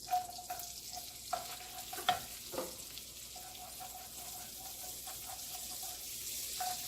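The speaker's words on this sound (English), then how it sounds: "now I'm going to put my garlic in" Garlic goes into a hot pan in a home kitchen where mushrooms soaked in wine and onions are already cooking, giving a faint steady frying hiss with a few soft stirring clicks and scrapes, no voices.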